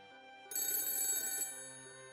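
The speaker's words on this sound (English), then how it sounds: "my cell phone, sitting on the table, started ringing" A cell phone sitting on a table rings in one bright, loud electronic burst lasting about a second, standing alone over a faint steady tone.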